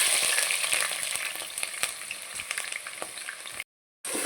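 Onion fries with cinnamon, cloves, bay leaf and green chillies for a chicken fry, a steady hissing sizzle broken by small stirring taps, cut by a brief dropout near the end.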